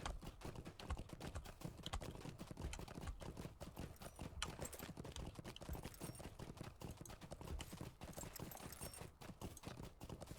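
Rohan horse hooves in the Lord of the Rings Online video game clop steadily at a riding pace, a dense continuous rhythm of hoofbeats heard close throughout, with no voices.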